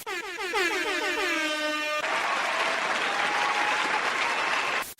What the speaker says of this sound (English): Got do a little clapping sound here.